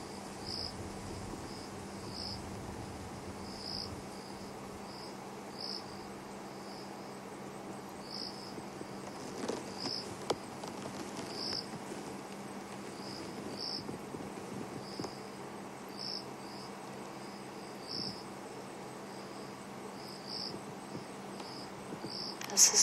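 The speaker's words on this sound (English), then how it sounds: "it's just us and the night sounds and that cricket that is somewhere to the left of us" A single cricket chirps at night in the African bush during a sunset safari drive, steady evenly spaced pulses somewhat distant over a quiet, faintly humming background.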